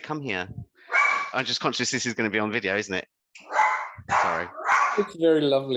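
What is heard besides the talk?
dog barking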